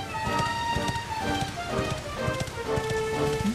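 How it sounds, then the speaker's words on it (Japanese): Rain falls steadily in the role-playing game Dragon Quest XI, a constant wash of patter under game music and rhythmic footstep-like clops. "雨が降ってる。"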